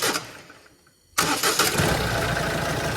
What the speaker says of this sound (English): the starter motor has the ability to work anyway